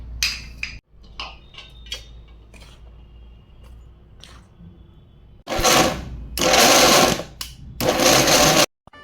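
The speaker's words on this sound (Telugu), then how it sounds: "ఇవన్నీ మిక్సీలో వేసి మనం మిక్సీ పట్టుకోవాలి." A kitchen mixer grinder grinds flour with jaggery and cardamom for sunnundalu sweets. Light clicks and taps come first, then three loud grinding bursts in close succession.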